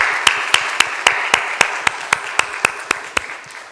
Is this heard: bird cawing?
no